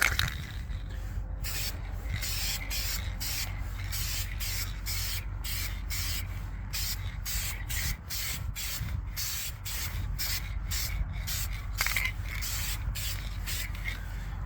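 An aerosol can sprays paint onto the rusted rocker panel of a 2014 Ford F150, a steady close hiss broken by short rhythmic pauses between passes, running continuously with no talk.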